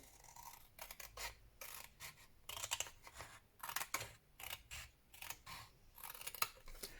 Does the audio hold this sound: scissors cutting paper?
yes